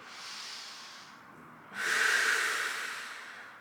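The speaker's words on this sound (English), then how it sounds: "breathing deep" Deep breathing during a core stretching exercise with lifted, scissoring legs: a softer breathy draw, then a louder, hissing exhale lasting about two seconds, close to the mic with no talk.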